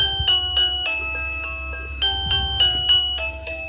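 A portable doorbell plays a repeating electronic chime melody, a steady series of clear bright tones in a close, continuous pattern with a low hum beneath.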